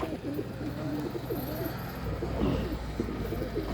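A pigeon of a closed-tail breed coos softly close by, low repeated burbling notes over a steady background hum.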